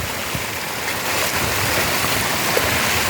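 Floodwater surges through a village in Puthukulam panchayat, Sathankulam area, a steady loud rushing roar of churning water filling the whole stretch with no voices.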